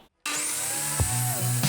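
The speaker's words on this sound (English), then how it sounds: "let's head to the miter saw" A miter saw spins up and cuts through wood, a loud, steady, high whining drone that starts abruptly after a brief silence and holds close, with a thump as the blade bites partway through.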